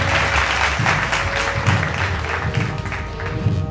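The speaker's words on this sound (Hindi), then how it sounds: "तो पूरा नेसेट तालियों की गड़गड़ाहट से गूंज गया।" Thunderous applause fills the Knesset chamber, a dense, steady roar of many hands clapping throughout, loud and close with a low rumble of crowd beneath.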